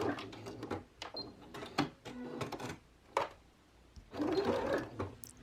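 A sewing machine runs in short repeated bursts, stitching an enclosed seam around a double ruffle scrunchie, with pauses and fabric handling between close, steady whirs.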